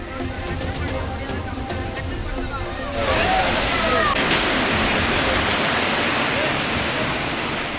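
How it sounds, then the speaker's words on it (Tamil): Roaring waterfalls at Courtallam, Tenkasi, including Main Falls, Five Falls and Tiger Falls, where families bathe: a loud, steady rushing roar that swells after a few seconds, with a voice speaking over it. "மெயின் அருவி, ஐந்தருவி, புலியருவியில் ஆர்ப்பரிக்கும் நீரில் குடும்பத்துடன் குளியல்"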